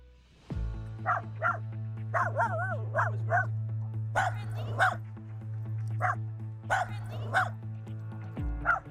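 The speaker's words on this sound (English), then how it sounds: "So you see the dog just going nuts." A dog barks excitedly, letting out about a dozen sharp barks and high yips in an uneven burst over nine seconds, nearby, above a steady low hum.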